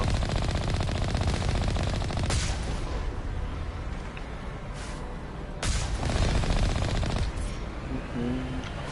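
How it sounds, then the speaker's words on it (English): Rapid, loud bursts of turret gunfire from the game Mass Effect rattle continuously with a few sharper cracks and booms standing out, close and dominant. "Shooting turrets right now."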